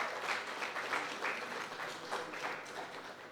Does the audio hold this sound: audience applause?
yes